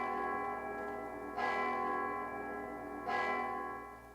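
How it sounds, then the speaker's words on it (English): A church bell tolls twice, evenly spaced, each deep resonant strike ringing out over a steady sustained hum, during a stage performance of Macbeth. "The bell invites me."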